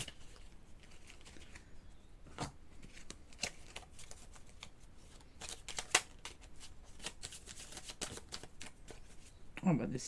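Rider-Waite tarot cards are shuffled and handled close by, producing repeated sharp riffling bursts and flicks at irregular intervals, with softer paper rustles between them and a faint voice in the background.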